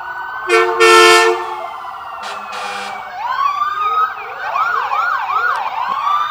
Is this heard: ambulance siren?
yes